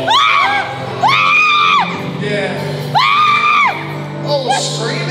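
A woman lets out repeated long, high wailing screams during a religious deliverance session. Three loud drawn-out cries rise and fall, with other voices faintly in the background.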